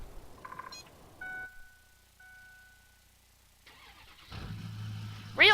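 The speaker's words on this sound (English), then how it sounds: "this truck's engine sound is the most realistic of the 3 that we're going to look at" Truck engine in the video game Farming Simulator 19: a short mechanical clatter, a quiet pause, then the engine starts and settles into a steady low idle, ending with a loud burst.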